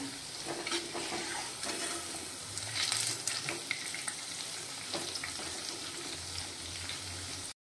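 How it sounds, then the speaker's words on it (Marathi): Fasting fritters of sabudana and potato sizzle loudly in oil as they are turned, with steady frying hiss broken by a few scraping, stirring sounds up close. "आता आपण भजी पलटी करून घेऊया।"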